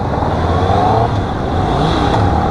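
A Honda CB650R motorcycle's engine revs in false neutral, a loud, steady mechanical drone with rising and falling pitch that holds close and continuous, with no voices over it.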